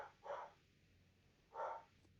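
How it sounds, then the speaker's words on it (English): An excitable pet dog barks twice indoors in a quiet room, two short, fairly distant yips separated by about a second of near silence. "you guys hear my dog barking?"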